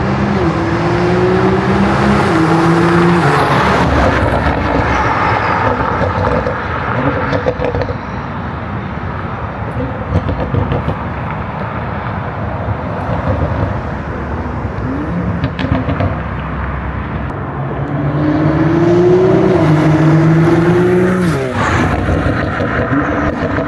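A BMW fitted with an SSR downpipe drives past loudly, its turbo spooling up with rising whines and the exhaust droning and roaring near and far over about twenty seconds.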